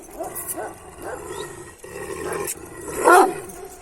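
Dogs, including a Kangal, bark and growl at each other close by, repeated sharp barks with a louder outburst near the end.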